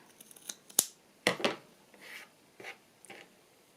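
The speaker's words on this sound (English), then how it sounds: "Let's cut that. I just want to trim the top of it." Scissors trimming the scruffy top edge of a piece of paper: several quick, close snips and crisp cuts in an irregular rhythm, with soft paper rustling in between.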